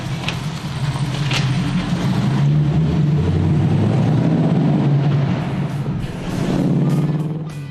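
A TVR M-series car driving with a Ford Mustang 5-litre V8 of about 300 horsepower, a deep, loud engine rumble that swells with acceleration and eases off before building again.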